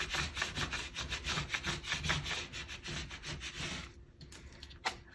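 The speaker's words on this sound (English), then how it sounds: "And I'm going to burnish the front." Vinyl transfer tape gets burnished with a tool in quick back-and-forth rubbing strokes, a soft, close scraping that repeats steadily and then drops into a brief near-silence.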